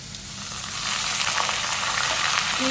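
A big onion dropped into hot tempering oil sizzles and crackles steadily, the frying growing slightly louder and staying close throughout.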